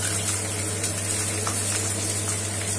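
Steady hissing sizzle of onions and curry leaves frying in hot oil, continuous and close, with faint crackles and no voices.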